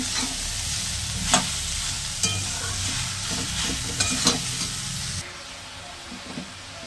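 Bottle gourd shukto with salt is stirred in a pan, sizzling steadily up close, with a few sharp scrapes of the spoon against the pan before the sound drops off near the end.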